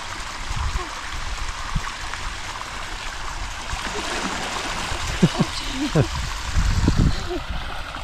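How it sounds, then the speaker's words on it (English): A garden sprinkler sprays water at a campsite, giving a steady hissing spray and patter, with people speaking over it and a few louder splashy bursts near the end. "Oh, sprinkler."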